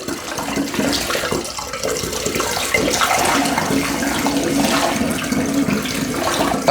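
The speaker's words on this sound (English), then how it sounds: "So now I'm just topping it up with water." Tap water runs and splashes into a container to top up a batch of homemade cider, a continuous rushing pour with a low gurgle that stays steady and close throughout.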